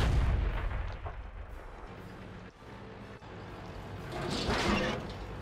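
An artillery shell strikes in the World of Tanks video game, a heavy booming impact with a broad rumbling roar that swells near the end amid continuous battle noise.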